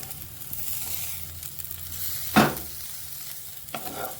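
Garlic sizzles softly in a hot pan while being stirred, with a sharp scrape of the spatula midway and another lighter scrape near the end.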